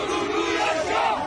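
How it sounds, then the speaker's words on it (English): Street demonstrators in Turkey clashing with police roar and shout as a dense, loud crowd, a sustained chorus of yelling voices filling the short stretch. "Street demonstrators clashing violently with police after the main political rival of the nation's president, Tayyip Erdogan, was detained."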